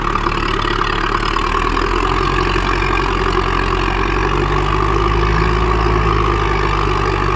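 An ACE DI 6565 65 HP tractor engine runs steadily while pulling an 11-tyne tiller, producing a loud, continuous low rumble with constant mechanical drone and no talk.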